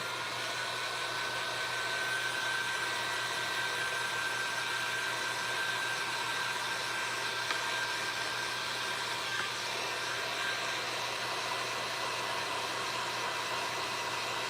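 Hair dryer blowing steadily on a craft piece, a loud constant whooshing roar with an even hum that holds unchanged throughout, with no voices.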